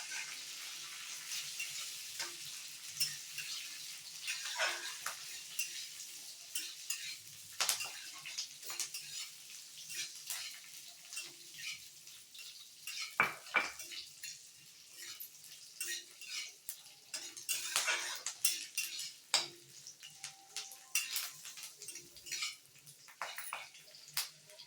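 Green chillies fry in a pan for tomato chutney, giving a steady broad sizzle with scattered scraping and clinks of a utensil against the pan, moderately close, no voices.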